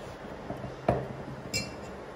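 A drinking glass is picked up and set down on a counter while preparing nanari sherbet, giving a soft knock and then a brief bright clink, quiet and close.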